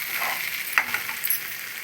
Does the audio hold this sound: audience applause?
no